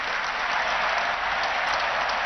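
A large crowd at a papal gathering keeps applauding at a steady, even level, a continuous wash of many hands clapping with no voices breaking through.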